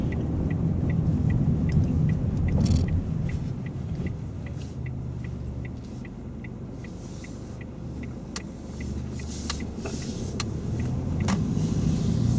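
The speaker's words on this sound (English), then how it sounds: "We're going to turn right, Tony." A car drives and turns right during a driving lesson, its low engine rumble steady throughout while the turn indicator ticks in an even, regular rhythm; no one speaks.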